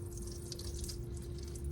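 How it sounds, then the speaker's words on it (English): Distilled water rinsing through a suction tip during dental instrument cleaning: a steady, soft trickle and hiss of running water with a faint hum underneath, unbroken for the whole moment. "Again, rinse with distilled water"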